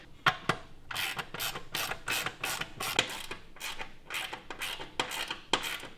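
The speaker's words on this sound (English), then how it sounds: "Then we'll use the provided hardware to bolt in our seat. These will be a 1/2 inch wrench." Metal clicks and clanks come in quick uneven bursts as a 1/2 inch wrench tightens the supplied hardware bolts holding the seat onto a bolt-together go kart frame. The sound is close and alone, with no talk.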